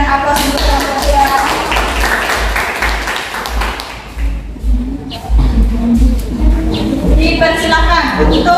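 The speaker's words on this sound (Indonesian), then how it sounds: "berikan aplaus untuk kelompok 2" A classroom audience claps for a student group after its presentation, a dense patter of hands with a voice talking over it, fading briefly before swelling again.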